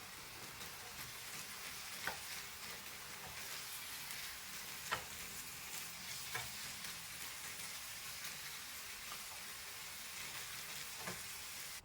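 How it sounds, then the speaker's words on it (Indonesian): Chicken soup spices frying in a hot pan as they are stirred, a steady soft sizzle with occasional sharper clicks of the utensil against the pan. "Tetap kita aduk sedikit lagi"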